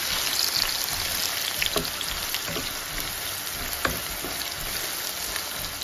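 Onions sizzle steadily in a hot pan, a dense, even crackling hiss with occasional small pops, continuing without talk.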